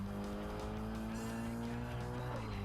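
Race car in a Japanese touge racing video game, its engine droning steadily with shifting pitch while the tires squeal and skid through corner exit oversteer, loud and continuous.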